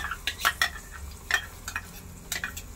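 Mango pulp going into semolina roasting over a very low flame for mango sheera, heard as a series of soft, wet stirring and scraping strokes spaced out in an uneven rhythm over a quiet background.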